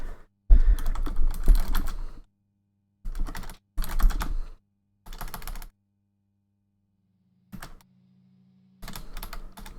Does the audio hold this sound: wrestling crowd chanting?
no